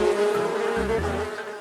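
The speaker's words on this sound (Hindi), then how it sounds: "उस पेड़ पर लगे मधुमक्खियों के छत्ते से मधुमक्खियों का झुंड निकला और उसको काटने लगा।" A cartoon-style swarm of bees buzzes in a loud, steady drone with a wavering pitch, filling the short span without pause.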